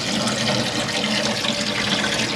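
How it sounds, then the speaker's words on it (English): Water gushes steadily from a motorhome sink tap fed by a pump, a continuous close splashing hiss with no voices. "making sure the pump's on to get your water flow through"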